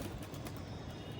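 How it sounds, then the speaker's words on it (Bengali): Pigeons cooing softly as a flock of young Madrasi and Malwai pigeons is released outdoors, faint and continuous against steady background noise. "এইসব পায়রা ছেড়ে দেওয়া হলো বাচ্চাগুলো"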